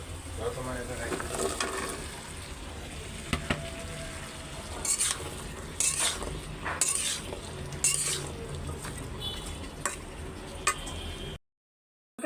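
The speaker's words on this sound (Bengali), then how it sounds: "এটা সুন্দর করে কষায় ফেলছি" Vegetables sautéing in a pan with ground spices, ginger-garlic paste and chili paste, a soft steady sizzle under spoon stirring and several sharp scraping clinks against the pan, with a voice talking over it.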